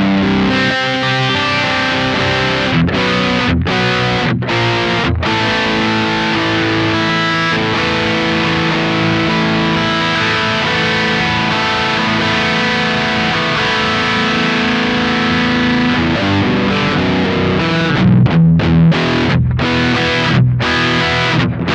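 An electric guitar with heavy distortion plays through a Shure GLXD16 wireless system, loud and sustained with thick chords and a few abrupt stops near the start and end.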